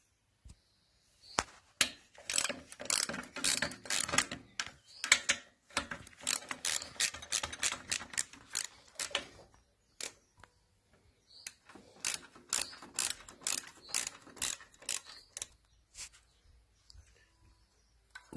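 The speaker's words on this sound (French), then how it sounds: "je dévisse ces deux vis de 10" Ratcheting wrench unscrewing two 10 mm screws on a carburetor, a series of quick clicking ratchet strokes in bursts with short pauses, close and clear with no talk.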